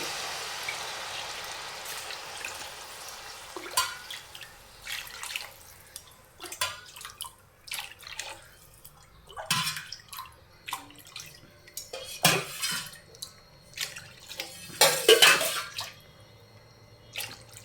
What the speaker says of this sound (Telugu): ఇక్కడైతే నేను 7 గ్లాసుల వాటర్ని అయితే యాడ్ చేసేసానండి